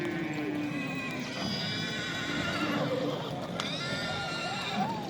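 Horses at a busy livestock market neigh and whinny at close range over a steady wash of crowd noise and hoof clatter, with a long call early on and shorter calls later, while people talk in the background.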